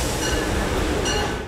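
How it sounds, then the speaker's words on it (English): An Amtrak Acela Express train rushes past with a loud, steady roar of wheels on rail and broadband rumble, holding near and constant throughout. "That's the 706 Acela Express."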